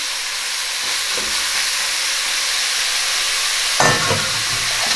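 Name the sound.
vegetables (celery, carrot, onion) sizzling while deglazing the pan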